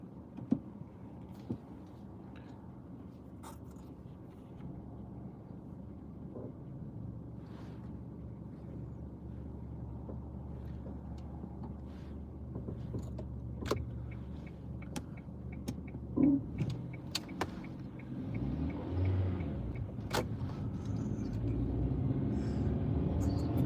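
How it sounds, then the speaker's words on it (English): Car driving in miserable wet weather, a steady low engine and road rumble inside the cabin with occasional faint clicks and thumps, growing slightly louder near the end. "let's go driving in this lovely miserable weather and see what we see"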